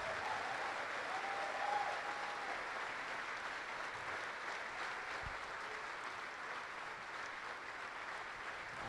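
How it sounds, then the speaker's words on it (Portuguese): Congregation applauding inside a church, a steady wash of clapping that holds evenly for about nine seconds with no voices over it. "Let us give him a big applause today."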